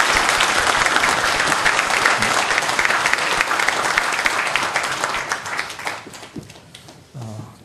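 A church congregation gives warm applause for a missionary, a loud, dense round of clapping that tapers off near the end as a voice begins to speak.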